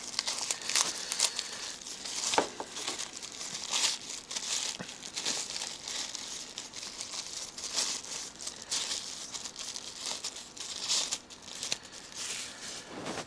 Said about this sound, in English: Even this bag's like a nice soft plastic